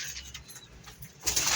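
Pigeons coo softly at close range on a home rooftop loft, a low murmuring call repeated across the moment, with a brighter flutter-like burst toward the end.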